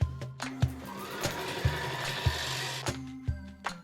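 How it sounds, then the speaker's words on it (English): A sewing machine runs a zigzag stitch along the edges of a patchwork hoodie, with a close mechanical hum broken by regular thumping beats and short bursts of stitching, then brief clicks as it stops. "zigzag stitch the edges"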